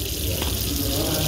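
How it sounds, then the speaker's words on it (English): Water running from a washroom tap while hands are washed, a loud, steady close-up gush of flowing water filling the whole moment. "Then after finishing, you just wash your hands."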